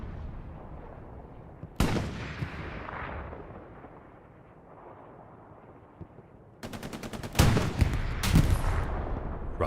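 Rocket striking the rear of a Sherman tank in the World War II shooter Hell Let Loose, amid a busy battle: a sharp loud blast, then rumbling, and later bursts of rapid gunfire and heavy impacts close by.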